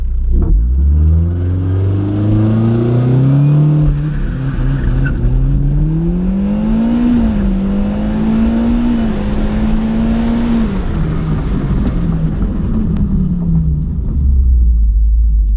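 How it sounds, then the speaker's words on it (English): A launch-control start with torque amp off and traction control mode 4: the car's engine holds high revs, then pulls hard. The pitch climbs in repeated surges through the gears, a loud continuous roar close by with no talk. "Alright, so we're going to do a launch control."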